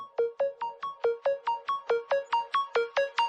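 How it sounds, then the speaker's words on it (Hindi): A phone ringtone of repeating rapid chirping tones, about four per second, steady and clear with no voices. "एक्सक्यूज मी, फोन आ रहा है।"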